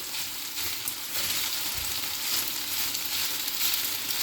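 Onions, ginger and green chilies frying on a hot tawa for qeema, a steady close sizzle with crackling throughout, no talking.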